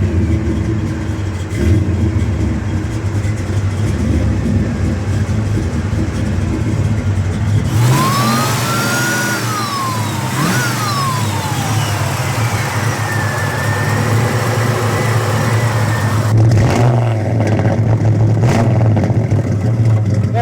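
A 1963 Chevrolet Nova SS engine fires up and settles into a loud, throaty idle, then revs sharply several times with rising and falling whine before dropping back to a steady rumble.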